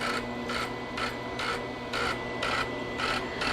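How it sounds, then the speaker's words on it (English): A cheap flux core welder feeds wire through its drive with a soft mechanical whirring that pulses in a steady, repeating rhythm about twice a second, quiet and close, with no voices. "Okay, it's feeding. It's sucking the wire in."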